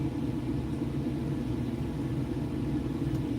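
A truck rumbles nearby with a low, steady engine drone that holds evenly throughout and neither swells nor fades, with no talking over it.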